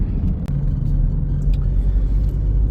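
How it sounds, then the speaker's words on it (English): Heavy traffic on the I-15 highway in mid-afternoon, heard as a loud, steady engine and tyre rumble with a brief sharper bump partway through. "And a lot of traffic."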